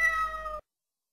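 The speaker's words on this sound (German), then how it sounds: "Das ist Meinzel, die Katze." A cat gives one clear, drawn-out meow, close and fairly loud, ending abruptly and followed by silence.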